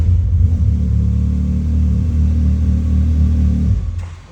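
A 2021 Can-Am X3 XRS Turbo RR side-by-side engine starts and settles into a loud, steady low rumble for about four seconds, then shuts off and fades out near the end.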